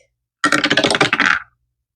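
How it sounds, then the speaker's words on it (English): Dice rolled for a low-income cash savings challenge, a dense clatter of rapid clicking impacts for about a second, close and fairly loud, then silence. "I'm gonna roll the dice to see what I'm gonna stuff for next week"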